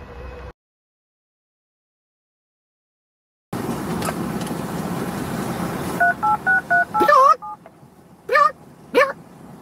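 Telephone keypad dialing tones: a run of short beeps in quick succession, then a few more spaced presses, heard close over a car's low interior hum after a brief silence.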